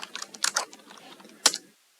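Code being typed on a computer keyboard: a quick run of close, crisp key clicks followed by a pause and one louder keystroke, with no one talking.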